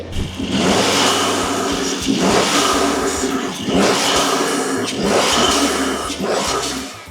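A Mercedes C43 engine with a cold air intake revs repeatedly in loud surges, each rise followed by a brief dip, with a strong intake roar and no voices.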